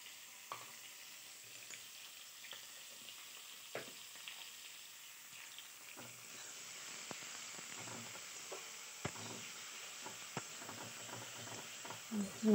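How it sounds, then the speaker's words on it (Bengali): Tomato and potato frying softly in a pan, a faint steady sizzle with occasional clicks and scrapes of a spoon stirring, close and quiet with no talking. "টমেটো আলু ভালো করে ভেজে নিচ্ছি"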